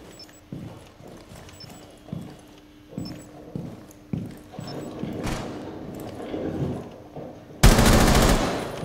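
Gunfire in the tactical shooter game Rainbow Six Siege, with scattered single shots and short bursts, a dense burst of fire near the end, and a few steps in between.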